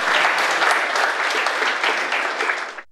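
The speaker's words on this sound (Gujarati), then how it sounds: "જોરદાર તાળીઓ તમારા પાટનગર માટે." An audience at a women's poetry recital in Gandhinagar claps in a dense, loud burst of applause that holds steady and then cuts off abruptly near the end.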